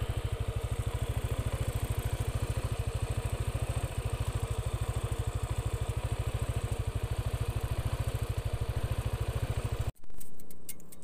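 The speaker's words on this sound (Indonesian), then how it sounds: "Analisa kerusakan Yamaha NMAX." A Yamaha NMAX scooter with a fault being checked runs steadily at idle, its close, even engine pulses repeating for about ten seconds before it cuts off abruptly.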